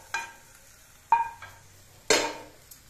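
Peas and fenugreek leaves tipped into hot frying masala: three distinct clattering stirs of a spoon against the pan, each followed by a brief close sizzle, with no talking.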